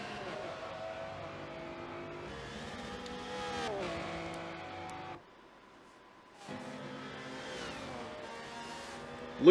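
GT race cars in a video game racing at the Nurburgring, engines revving and shifting through gears with whining tones, briefly dropping out before returning, with commentary speech running under them.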